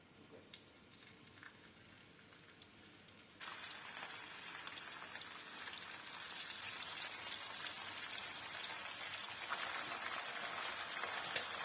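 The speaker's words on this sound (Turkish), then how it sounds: "Şimdi ciğerlerimi kızgın tavamın içerisine ekliyorum." Floured chicken livers going into a hot pan, starting as a faint hiss and then jumping to a steady, crackling sizzle that carries on to the end.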